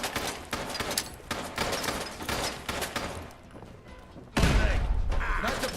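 Rapid gunfire from the video game Fallout London rattles in a string of sharp, close shots. A louder, heavier blast lands near the end.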